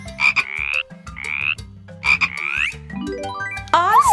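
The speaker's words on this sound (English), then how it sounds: "Frogs breathe through their nose and skin." Frogs croak in bursts of repeated ribbed calls, loud and close, with several croaks in an uneven rhythm and a higher trilling call near the end, no talk over them.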